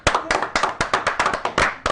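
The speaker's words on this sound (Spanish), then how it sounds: "Un aplauso." A few pairs of hands clap in a quick, fairly even rhythm, about a dozen sharp close claps in under two seconds, with no talking over them.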